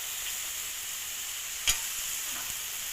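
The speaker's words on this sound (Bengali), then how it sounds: "খুব ভালো করে ভাজবো যাতে টমেটোটা পুরোটা গলে যায়।" Tomatoes frying in a pan for ghugni, a steady soft sizzle with one brief clatter midway, no voices.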